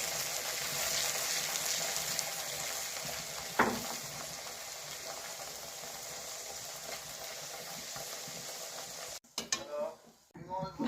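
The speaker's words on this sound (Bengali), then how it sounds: "এখন আমি কচুরিগুলো ভালো করে ভেজে নেব।" Kachoris stuffed with flattened rice and green peas deep-fry in hot oil with a steady, close sizzle, broken by a single sharp knock partway through and some clattering handling noises at the end.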